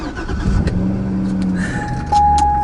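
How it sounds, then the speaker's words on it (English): A 2007 Corvette is started by push button: clicks and a brief starter whir, then the engine catches and settles into a close, steady idle with a higher tone rising near the end. "This car has push button starting."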